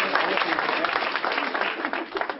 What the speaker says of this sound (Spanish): Guillermo del DF, fuerte aplauso.